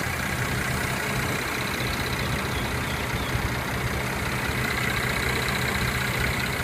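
A 2014 Mercedes-Benz C350 4MATIC coupe idles with a steady, even engine rumble. The sound stays constant and close, with no talk over it.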